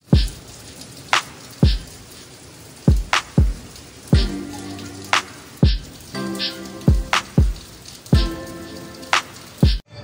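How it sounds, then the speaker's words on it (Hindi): Heavy rain falls steadily outdoors during a monsoon downpour, with loud close splashes and thuds repeating irregularly over a constant hiss and no talking. "ये देखो भाई, बहुत तेज बारिश आ रही है, बहुत तेज।"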